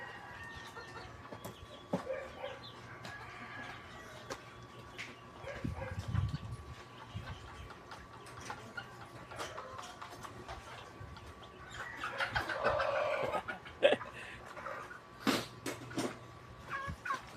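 Chickens and chicks cluck softly in a backyard flock, with scattered peeps and a brief louder flurry of clucking against a quiet, faintly buzzing background.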